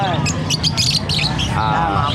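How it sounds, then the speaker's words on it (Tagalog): African lovebirds squawk amid a pet market, sharp close chirps and squawks over a busy background of crowd babble and voices. "African Lovebird."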